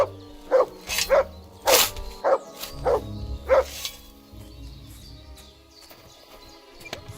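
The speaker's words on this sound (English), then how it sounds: "Good dog, Mats. Show me." A dog barks about six times in a quick, slightly uneven series in the video game Kingdom Come: Deliverance 2, fairly close, over a low rumbling background, then quieter ambience.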